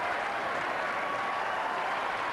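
Sustained applause from a tennis crowd at Indian Wells during a Henman versus Federer match, a dense, even wash of clapping that holds steady throughout without breaks or spoken voices.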